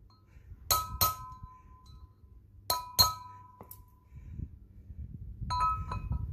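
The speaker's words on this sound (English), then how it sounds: "sometimes you have to take a little chisel to try and strike straighten it out" A small chisel strikes a metal wheel bearing race to straighten it while seating it in a VW Puma drop spindle, giving sharp ringing metallic clinks in pairs, close and clear, separated by quiet gaps.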